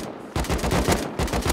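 Automatic rifle fire in the survival game Rust, a rapid burst of about a dozen loud, close shots in quick even rhythm.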